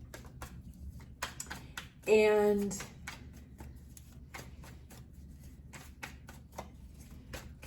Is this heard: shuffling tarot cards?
yes